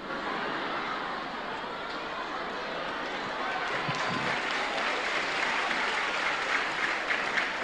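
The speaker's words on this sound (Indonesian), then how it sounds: "Ngapa tepuk tangan?" Large audience of students at an Islamic boarding school clapping and cheering together, a dense steady roar of applause that swells slightly toward the end.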